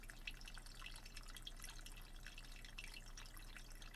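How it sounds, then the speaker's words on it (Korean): Water dripping in a quiet, calm setting, faint scattered drops landing irregularly over a low steady hum, with no voices. "물소리를 들으며"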